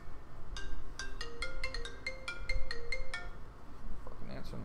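A phone ringtone plays a rapid melodic run of bright tones over a noisy background, close and fairly loud, with voices talking in the room.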